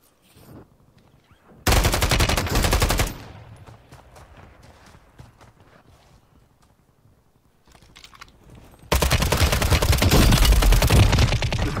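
Two loud bursts of gunfire from a slow-firing gun in Warzone on Rebirth Island, separated by a quieter stretch of faint clicks and movement, with the second burst running longer.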